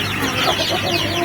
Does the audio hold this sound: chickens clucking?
yes